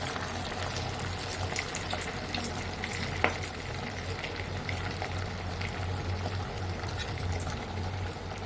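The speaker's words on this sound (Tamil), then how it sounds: "இதை இப்போ நம்ம எண்ணெயில் போடும்" A chicken cutlet frying in oil in a steel kadai gives a steady, close sizzle, with a single sharp clink partway through and no speech.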